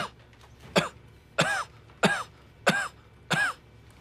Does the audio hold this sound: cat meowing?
no